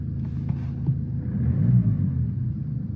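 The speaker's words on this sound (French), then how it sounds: "Je vais démarrer la voiture" A car engine idles with a low, steady rumble that swells briefly mid-clip, heard fairly close and without talk.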